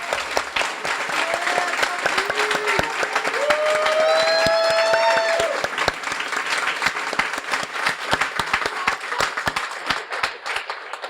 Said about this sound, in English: Jolene deserves an amazing round of applause for the hard work